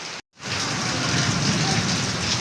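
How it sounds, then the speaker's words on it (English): Steady, dense rain pours down close by, a constant hiss after a brief silent break at the start. "it's raining here now"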